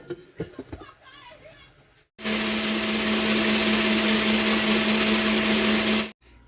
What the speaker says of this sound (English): So we'll stick it in the KitchenAid and see what happens.